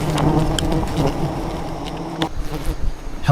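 Wild bees swarm with a dense, continuous buzzing high in a Vietnamese jungle canopy, loud and close, with rustling and knocks in the background.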